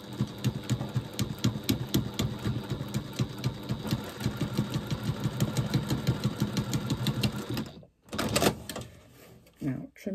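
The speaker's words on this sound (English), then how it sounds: "you're going to stitch across those corners, across the corner at a 1/4 inch seam allowance" Sewing machine stitching across fabric corners at a quarter-inch seam, a steady rapid mechanical chatter running loud for about eight seconds, then a brief stop and a short restart.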